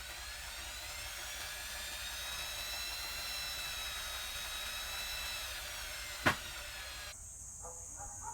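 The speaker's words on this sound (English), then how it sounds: "We drill holes for the exhaust bridge." A drill whines steadily while boring exhaust-bridge holes in a YZ125 two-stroke cylinder. The high tone holds for several seconds, then a sharp click comes and the drill stops.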